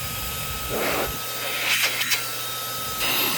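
A Fanttik X100 cordless handheld vacuum cleaner blows a steady, strong airflow hiss that surges in short bursts, with faint rubbing and handling noises and no talking.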